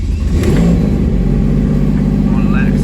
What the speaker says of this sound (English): So here, I'll start it up for you.